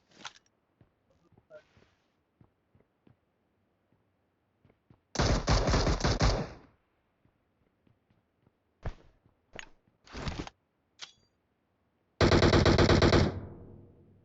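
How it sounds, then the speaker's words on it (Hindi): Automatic gunfire in PUBG Mobile, bullets striking cover, heard as two long loud bursts plus several short volleys and scattered single shots amid quiet gaps. "मुझे कवर में पड़ रही गोलियां, लेकिन मैं नॉक नहीं हुआ।"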